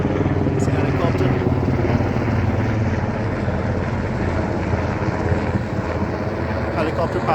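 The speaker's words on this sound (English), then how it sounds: "Helicopter passing overhead." A helicopter passing overhead near a commercial construction site: a loud, steady rotor and engine drone fills the whole stretch, with a voice talking over it.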